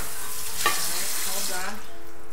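Carrots boiling in a pot in a home kitchen, a continuous bubbling, sizzling wash close by with a brief clink partway through and no talking.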